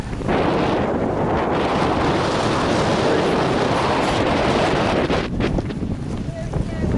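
Strong wind buffets the microphone with a constant loud rumble, gusting unevenly throughout, on a hillside walk in Hags Glen.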